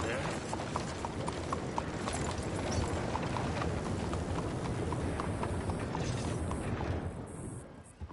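Horse hooves clip-clopping in the Red Dead Redemption 2 video game, a steady run of dull knocks that continues through the clip under game ambience and a voice talking, then drops away near the end.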